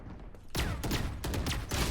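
Classic pistol shots in Valorant, a burst of several sharp reports in quick succession after a brief lull, loud and close with no talking.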